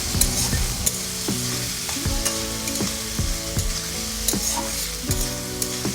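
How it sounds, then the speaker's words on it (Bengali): Potatoes, tomatoes and ginger paste frying in a pan while being stirred, a loud continuous sizzle broken by rhythmic scraping strokes of a spoon against the pan every half second or so. "1 চামচ মতো আদা বাটা দিয়ে আবারও 2 মিনিট মতো নাড়াচাড়া করে ভেজে নিব"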